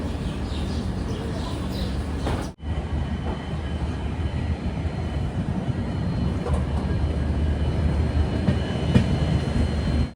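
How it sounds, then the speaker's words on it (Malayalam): Humsafar Express passenger train running between stops toward Ambassa in Dhalai district, a steady broadband rumble from inside the coach with faint rail clatter, briefly dipping as it passes something, then continuing evenly. "ട്രെയിൻ ഇപ്പോൾ ധലായ് ജില്ലയിലെ അംബാസയിലേക്ക് ഇതാ എത്തുകയാണ്."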